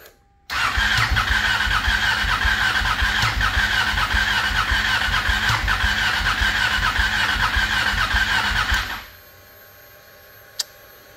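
A fuel-injected engine with previously stuck injectors cranks steadily in a shop for several seconds without catching, a loud continuous rhythmic starter churn that cuts off abruptly, followed by quiet with a faint click.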